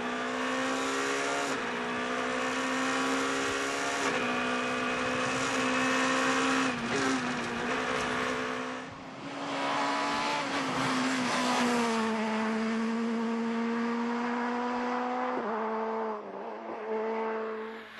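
Rally car at full speed on a gravel stage of the 2012 IRC rally, its engine note loud and sustained with rising and falling revs through gear changes, no talk over it.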